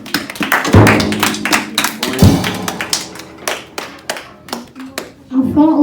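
A church congregation claps and taps in loose, uneven bursts while acclaiming Jesus, with scattered thuds and voices mixed among the claps.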